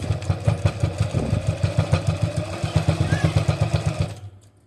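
A sewing machine stitches a pant leg seam, its motor whirring in a fast, even rhythm of pulses close by, then stopping just before the end.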